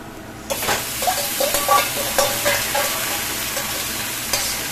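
Onions frying in a pan until golden for a mutton dak bungalow curry, a close, loud crackling sizzle that starts abruptly and carries frequent scraping stirs of a spatula.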